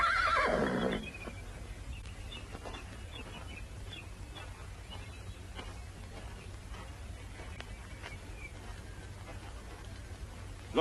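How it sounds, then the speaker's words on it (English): A horse neighs loudly at the start in an old Western film set, followed by a steady low rumble with faint hoof clip-clops in the background. "Looks like a fine horse"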